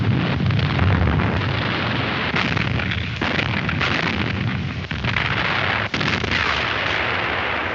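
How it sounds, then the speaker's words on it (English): Depth charges fired from a wartime corvette at a submarine, a continuous heavy roar of blasts and booms with several sharper thuds, loud and dense throughout. "From side as well as stern, we're slinging the charges until our pattern covers that sub."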